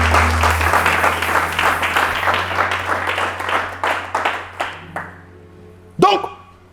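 A church congregation claps loudly in rhythmic unison, the beats gradually thinning and fading out, followed by a single sharp knock; a steady low hum runs underneath.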